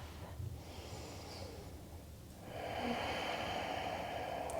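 Slow, soft breathing during a twisted triangle pose in a vinyasa yoga flow, with a hushed airy breath that swells into a steadier, fuller exhale partway through, close and quiet.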